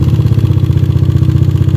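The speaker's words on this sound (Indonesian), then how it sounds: "untuk suara ngeleteknya itu parah banget ya" A Yamaha Aerox scooter engine idles with a loud, steady mechanical rattle, a fast, even clatter running close and continuous with no talk over it.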